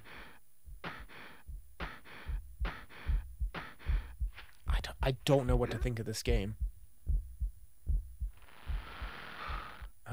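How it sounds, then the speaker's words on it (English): Rhythmic heartbeat thumps pulsing steadily through gameplay of the N64 game Shadow Man, with a voice talking over part of it and a burst of game noise near the end. "I hear a heartbeat, and it's gone now."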